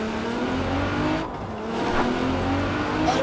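Nissan Fairlady Z engine from Forza Horizon 4, its steady engine drone running continuously with a brief dip in the middle, suggesting revving or a gear change, and no voices over it.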